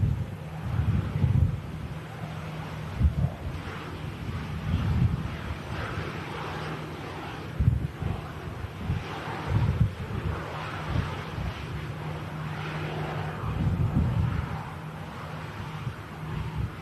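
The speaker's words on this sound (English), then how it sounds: "These winds, man. Unbelievable, isn't it? Still so gusty." Strong, gusty storm wind at an airport during Storm Pia buffets the microphone in a continuous roar, rising and falling in heavy surges throughout.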